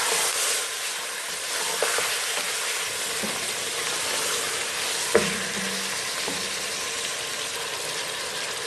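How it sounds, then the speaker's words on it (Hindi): Mutton pieces frying in a pan for a cauliflower and meat curry, a steady broadband sizzle with a few light clinks and scrapes of a spoon, close and continuous with no talk. "अब इसके अंदर हम ये गोश्त जो है मटन वो डाल देंगे। थोड़ा सा इसको फ्राई कर लेंगे।"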